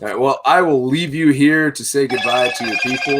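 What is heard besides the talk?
phone ringing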